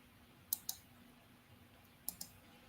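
Four sharp computer mouse clicks in two quick pairs, one pair about half a second in and another near two seconds, crisp and close against a faint steady hum.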